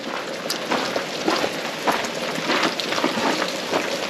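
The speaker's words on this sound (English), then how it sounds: "Just continuing to rain." Steady rain falls on a construction site where a house is being sheathed and underlaid, a continuous hiss with scattered close drips and patters, fairly loud throughout and without any voices.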